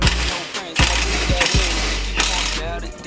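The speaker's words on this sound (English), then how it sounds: "go ahead and turn the wheel and make sure that this thing doesn't bind up" A steering wheel turns the tie rod linkage on a fabricated vehicle, giving loud clunks, creaks and grinding metal scrapes in uneven bursts, close by, over a heavy low rumble.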